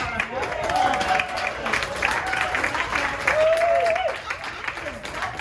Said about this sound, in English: round of applause for being here at 11 p.m.